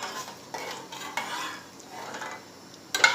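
A spoon stirs milk tea boiling in a pan, with soft scraping strokes and a gentle bubbling simmer close up, and a sharper clink near the end.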